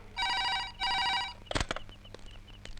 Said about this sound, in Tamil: உங்களுக்கு ஃபோன்